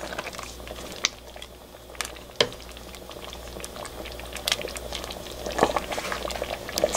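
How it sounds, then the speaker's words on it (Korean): Dried sweet potato porridge with beans simmers on low heat in a pot, bubbling softly and steadily with irregular small pops and clicks, close up and without voices. "지금 약한 불에서 계속 끓이고 있는데요"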